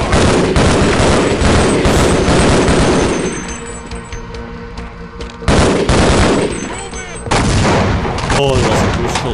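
Dense gunfire in the video game Half-Life: Opposing Force, loud rapid bursts and booms for several seconds, a short lull with scattered shots, then heavy firing resumes, mixed with game voices.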